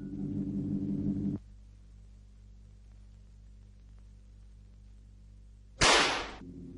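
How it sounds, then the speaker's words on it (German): A single sharp, loud report from a TT-33 pistol firing a 7.62 lead-core round at a steel helmet 25 m away, a bright broadband crack that follows a low droning hum and near silence. "Unerlässlich die Beschusskontrolle. Entfernung 25 Meter. Waffe TT-33."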